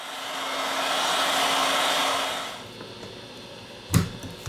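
A heat gun or hair dryer blows a steady, loud airflow roar over a Samsung Galaxy Note 9 phone for about two and a half seconds, then fades out, followed by a sharp tap and light handling noises.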